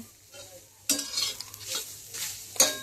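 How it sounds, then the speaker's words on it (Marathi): Garlic frying in a pan for chicken rassa, stirred with a utensil: soft sizzling with several scraping stir strokes, close and fairly quiet, no talking. "याच्यामध्ये आता लसूण टाकून घेते मस्तपैकी."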